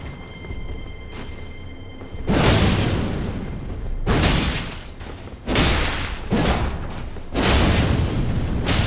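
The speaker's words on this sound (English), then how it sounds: "It is a cannon." Several heavy booming blasts from a cannon in Elden Ring land about every two seconds, each a loud burst that decays into a rumbling tail, with no talk over them.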